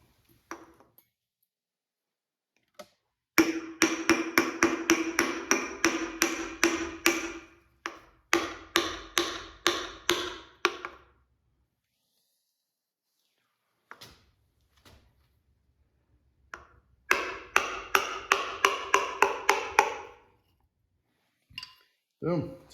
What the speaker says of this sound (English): Got a little plastic dowel for driving her in.